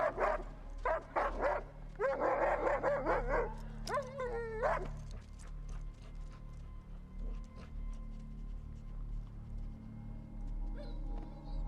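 Several sharp dog barks and yelps in quick bursts during the first five seconds, then quieter background with faint scattered sounds.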